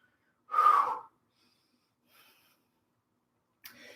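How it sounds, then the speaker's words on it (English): Heavy, effortful breath bursts from a person straining through a beginner yoga pose: one loud gasping exhale near the start, then a faint short breath and another soft breath near the end, separated by quiet. "You can hear I'm breathing."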